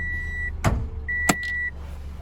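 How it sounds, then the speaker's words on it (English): Geo Metro electric power window motor whirring steadily as the window lowers, a short run followed by a longer one, with a couple of sharp clunks from the car in between, close and clear with no talk. "Window down. Your auto window."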